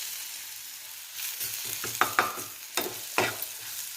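Soaked soya chunks being stirred into hot oil in a pan, with a soft frying sizzle under several scraping stirs that come in uneven bursts in the second half.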